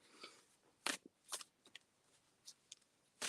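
Tarot cards are shuffled softly in a few quick, faint riffles and taps, close by and alone.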